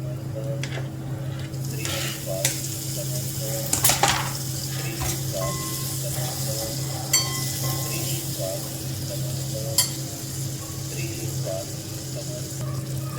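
Tomato frying in a pan as it is stirred, giving a steady sizzle with occasional sharp clinks and scrapes from the spoon against the pan.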